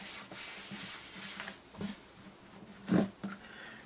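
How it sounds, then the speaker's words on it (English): Polish being rubbed by hand into the body of a satin finish guitar makes soft, close rubbing strokes, quiet and uneven, with a firmer swipe near the end. "This guitar is a satin finish guitar. Just get it all rubbed in."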